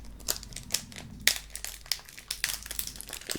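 Foil wrapper of a Pokémon Celebrations 25th anniversary booster pack crinkles and tears as it is opened, with close, crisp rustles and sharp crackles repeating irregularly, one louder rip standing out.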